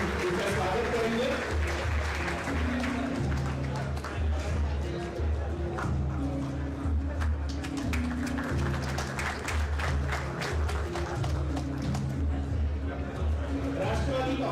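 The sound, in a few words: applause welcoming a new party member at a rally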